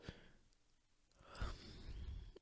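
A person lets out one big, drawn-out yawn, a breathy rising exhale that swells into a loud, open-mouthed sound near the end, close to the listener with no talk over it.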